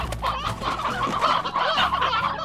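Chickens cluck in the video game Slime Rancher, a busy flock of overlapping clucks and squawks heard up close with no talking.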